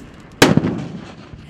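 A firecracker rocket bursts inside a watermelon, one sharp loud blast that cracks out and then trails off into a short fading rumble, with faint background noise before and after.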